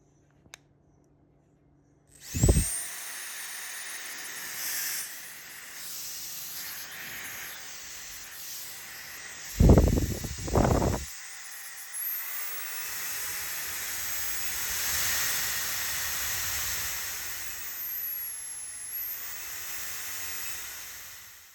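A Truwelby compressed air duster with a 130,000 RPM brushless motor gives a few sharp clicks, then spins up into a high whine and a loud, steady rushing hiss of blown air that holds to the end.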